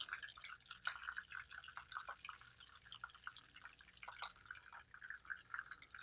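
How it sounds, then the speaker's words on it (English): Egg dripping off a seasoned chicken piece into a bowl of cornflakes, faint scattered drips and crackly patters in a quiet room. "Let that drip off into my cornflakes"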